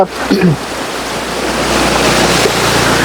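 A fast-flowing forest stream at Rosemala, Kollam rushes loudly and steadily up close, after a brief voice at the very start.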